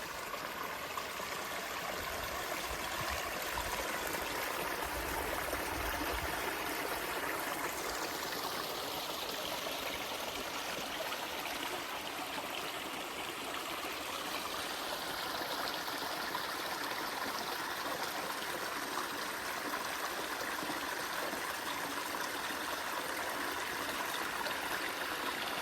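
A brook in the Wiltshire countryside runs below a hillside 13th-century church, heard as a steady, faint trickle and gurgle throughout. A low rumble comes and goes briefly near the start.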